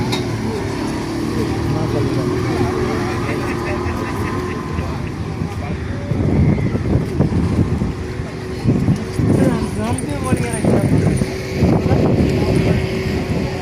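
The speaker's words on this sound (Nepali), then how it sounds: "अब जहाज आइसक्यो" A car ferry approaches on the river at Tulcea near Galati, Romania, a steady low engine drone with wind buffeting the microphone, and bursts of water and rumble growing louder toward the end.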